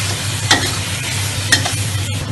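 Tomato and biryani spices with turmeric stir-fry in hot oil, giving a continuous close sizzle with two louder scraping stirs about a second apart and no talking.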